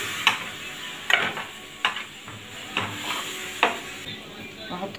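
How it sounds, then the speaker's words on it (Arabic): A spoon scraping and stirring ground cinnamon and spices in a pan, heard as about six distinct scrapes at an uneven rhythm over a light background sizzle, with no speech. "قلب ده كله في بعضه كده"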